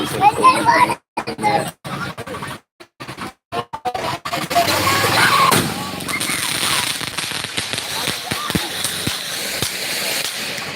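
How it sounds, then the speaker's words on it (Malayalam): Firecrackers burst during Vishu celebrations in a Kerala village in a rapid string of sharp bangs, followed by a continuous crackling rumble, with voices talking nearby. "പടക്കം പൊട്ടിക്കല്"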